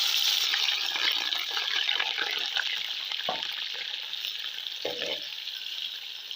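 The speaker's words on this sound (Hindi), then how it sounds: "घी गरम हो चुका है। अब इसमें प्याज ऐड करेंगे।" Onions sizzle in hot ghee for Afghani pulao, a steady close frying hiss with a few soft stirring clinks and scrapes.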